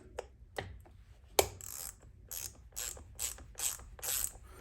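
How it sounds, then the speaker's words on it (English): Hand ratchet turning tight bolts on a rim of an Apollo Ghost scooter, a series of crisp close clicks in short uneven strokes, fairly quiet with no talk. "I'm gonna use a hand ratchet."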